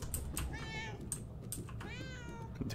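A cat meows twice, near and clear, inside the video game Murdered: Soul Suspect, with soft keyboard-like clicks underneath.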